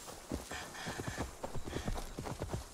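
Rhythmic horse hooves clip-clopping at a steady trot in the video game Assassin's Creed Valhalla, fairly close, repeating evenly over a soft background with no talking.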